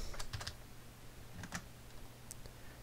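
Quiet, irregular clicks of someone typing on a computer keyboard with faulty shift and control keys, in short bursts, close by with a faint background hum.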